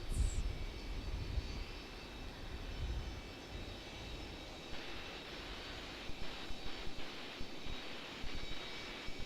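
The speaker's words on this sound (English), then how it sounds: "It's NetJets from Clarksdale. An Embraer Phantom 300 NetJets." Embraer Phenom 300 business jet at Raleigh Durham airport, its engine roar a steady, moderately distant rumble that holds throughout with slight swells near the end and no talk.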